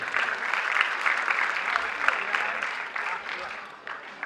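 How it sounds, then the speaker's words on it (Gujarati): Enthusiastic audience applause at a school inauguration show, a dense sustained wash of clapping hands that holds steady and fades slightly toward the end. "તો એમના માટે જોરદાર તાળીઓ એક વખત"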